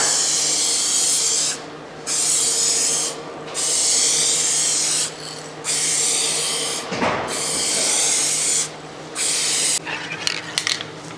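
A spray gun lays a coat of paint on a rusted car fender in short repeated bursts. Each close, hissing blast lasts a second or two, separated by brief pauses, with small handling noises near the end.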